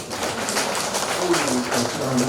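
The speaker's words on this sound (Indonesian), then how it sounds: "Tepuk tangan dulu untuk orang tua." A crowd at a Class XII high school graduation ceremony in Ende claps in a brief, busy burst, with voices mixed in underneath.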